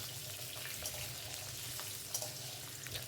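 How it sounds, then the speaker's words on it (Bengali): Diced potatoes fry in a pan, giving a steady, close sizzle and crackle that runs unbroken from start to finish with a few brief louder pops. "ডুমো করে কেটে রাখা আলু আলুগুলো একটু ভেজে নিচ্ছি"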